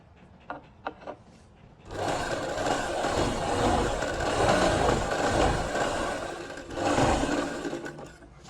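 A sewing machine runs steadily while stitching a palazzo, a loud continuous whirring motor hum from about two seconds on, swelling again near the end, after a few faint clicks and taps.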